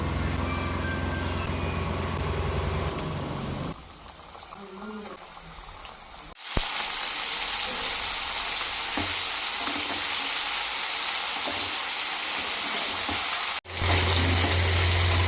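Battered chicken pieces deep frying in hot oil give a loud, dense, steady sizzle that dips for a few seconds, then surges back hard as more pieces go in. A voice speaks faintly under the frying.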